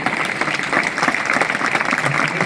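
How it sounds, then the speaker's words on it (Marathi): Audience clapping for prize winners at a school's annual gathering and prize-giving ceremony, a dense, steady round of applause filling the hall throughout. "आपण कडकडाटात टाळ्या एकदा वाजवूया"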